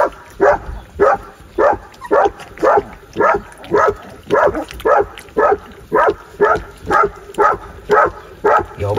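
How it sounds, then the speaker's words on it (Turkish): A young Kangal dog barks over and over in a steady, loud rhythm, roughly fifteen sharp barks spaced evenly close to the microphone, with no talk. "Ya bu köpek hiç mi susmaz ya?"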